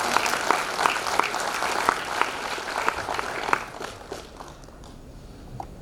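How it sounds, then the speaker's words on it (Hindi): An audience applauding players at an award ceremony, a steady wash of clapping at moderate distance with a few sharper individual claps standing out, fading somewhat over the last seconds. "प्लेयर्स को तालियां बहुत अच्छी लगती हैं।"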